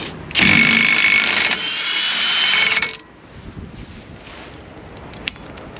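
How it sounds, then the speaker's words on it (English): Milwaukee rattle gun loosening a car axle nut, with a loud, close whirring hammer burst of about two and a half seconds, then a quieter tail and faint background noise, no talking. "grab my Milwaukee rattle gun so we could get the axle nut off"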